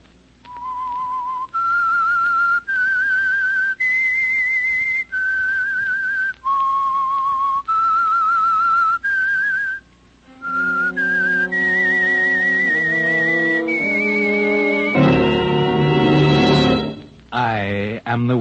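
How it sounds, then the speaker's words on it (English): The whistled theme of The Whistler radio mystery show, a lone clear whistler carrying a slow, eerie melody of held notes, then joined by an orchestral passage that swells toward the end. "That whistle is your signal for the Signal Oil Program"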